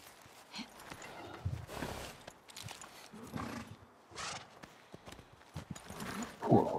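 Horses in The Last of Us Part II, a video game, with hoof clip-clops and shuffling steps at moderate distance amid ambient game noise, plus a brief whinny-like sound near the end.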